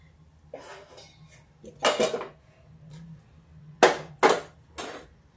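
Metal clatters and clanks as a lid is set over a pan of baking baati dough balls for Bihari baati chokha, with a few sharp knocks near the end, close and without talk.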